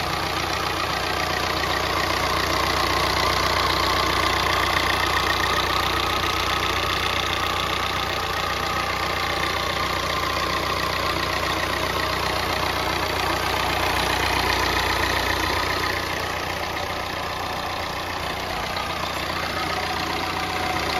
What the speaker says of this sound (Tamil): இந்த இண்டிகா CR4ஓட இன்ஜினை வந்து பார்த்திங்கன்னா நான் ஸ்டார்ட்